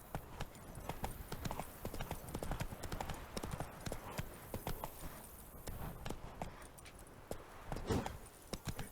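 Hooves of Roach, the horse in The Witcher 3, galloping in a steady rapid clip-clop rhythm, moderately close and fairly quiet, with faint game ambience behind.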